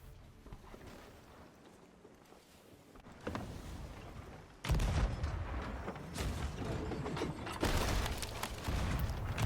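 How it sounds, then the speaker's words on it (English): Sea of Thieves game gunfire shooting at a ship from an island: rapid cracking shots and heavy booms building from a quieter start into a dense, loud barrage over rumbling background noise. "my crewmate was shooting them from the island"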